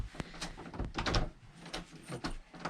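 The door of a rented house, fitted with a poor lock, rattles and clunks in a string of sharp clicks and knocks as it is handled up close.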